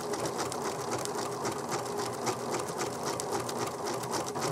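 A domestic sewing machine runs a maple leaf decorative stitch pattern, a steady fast-paced whirring hum that continues without pause, close and alone.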